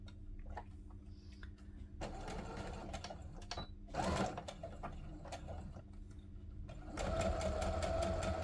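A sewing machine stitches right along the edge of fabric in bursts of rapid mechanical whirring and clattering, separated by brief pauses and handling noises, close and fairly loud.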